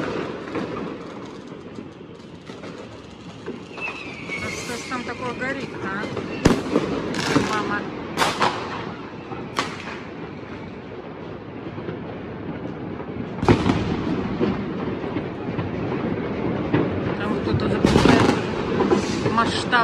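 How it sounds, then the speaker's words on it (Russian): New Year fireworks rockets bursting outdoors, several sharp cracking explosions spread irregularly over a continuous rumbling crowd-and-street background, with people talking throughout. "Полетела в полную ракета."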